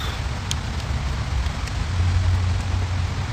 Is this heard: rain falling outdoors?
yes